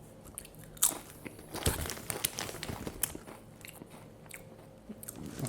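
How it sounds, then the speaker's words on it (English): Close-miked ASMR chewing and crunching, crisp bites and crackling mouth sounds rising and falling in soft irregular bursts, heard alone without talk. "for me to end this session with a little chewing for myself."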